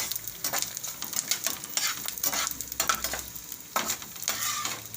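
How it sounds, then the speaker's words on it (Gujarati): Edible gum (gund) fries in hot ghee with a bright, crackling sizzle, punctuated by repeated scraping stirs of a spoon in the pan, close and moderately loud with no talk. "તો બધો આ રીતે આપણે ગુંદને તળી લેવું."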